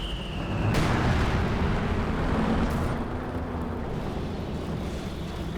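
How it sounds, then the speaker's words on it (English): Bombier heavy artillery firing in the game Company of Heroes 2, a loud booming blast that opens with a sharp crack and rolls into a long, dense rumble lasting several seconds. "Big shot from the Bombier."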